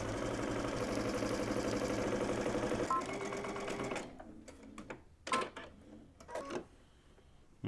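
A sewing machine runs continuously at a steady, rapid stitch along a pant leg seam for about four seconds, then slows into short, uneven bursts separated by brief pauses as the fabric is guided.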